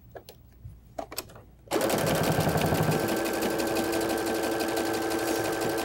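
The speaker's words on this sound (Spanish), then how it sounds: "Vamos a coser la tirita." A sewing machine stitches a fabric strip for a pillow, starting up after a few soft handling clicks and then running in a steady, close, continuous hum with rapid needle chatter; nobody speaks.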